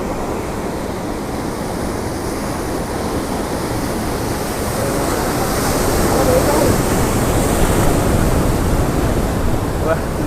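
Large sea waves crashing against rocks, a loud, dense, continuous roar of surf that swells a little stronger toward the end.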